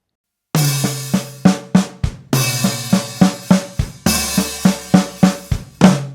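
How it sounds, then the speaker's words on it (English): Drum fill in which the first stroke of each flam lands on an open hi-hat, giving a steady run of sharp, sizzling hits with snare and low drum accents, played in three phrases, loud and close without speech. "We can also take the left hand, the first one of the flam, and chuck it on an open hi-hat"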